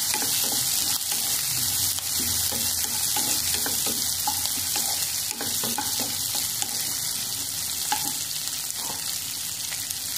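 Onions and green chillies frying in a pan for rice rava upma, a steady close sizzle with occasional stirring scrapes running throughout, no voices.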